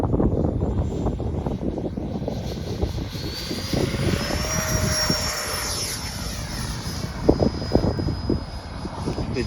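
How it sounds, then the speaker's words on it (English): Gyrocopter engine and rotor at takeoff from a new airfield in strong, gusty crosswind, a steady broadband roar with rising tonal whine and heavy wind buffeting throughout, close and loud. "clear for takeoff, Tony"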